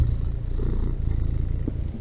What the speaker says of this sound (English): if you hear purring in the background of this voiceover